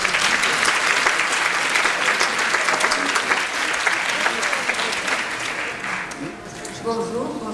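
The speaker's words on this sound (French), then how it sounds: "Je vais demander à la scène de vous accueillir par quelques applaudissements." An audience bursts into sustained clapping to welcome a woman to the stage at a testimony event, dense and loud at first, then thinning slightly as it tails off.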